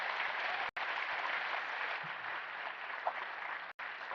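An audience at a talk on overcoming overthinking bursts into sustained applause, a dense even roar of many hands clapping that fills the whole span without pause.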